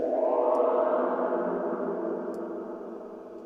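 Resampled sound in Ableton with the reverb and dry/wet turned up: a smooth washed-out swell that fades slowly over a few seconds, alone and moderately quiet.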